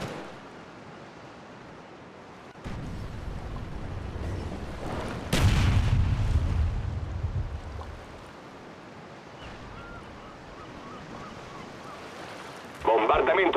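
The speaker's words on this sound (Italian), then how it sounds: "Bombardamento napalm in corso." Napalm strike explosions in the Call of Duty Black Ops video game, a loud deep rumbling blast burst lasting a few seconds after a steady background of game noise, then quieter game ambience.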